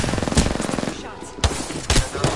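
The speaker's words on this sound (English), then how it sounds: "Shots." Gunfire in a battle royale video game, with bursts of rapid shots and several sharp, loud single reports spread across the clip, close and prominent.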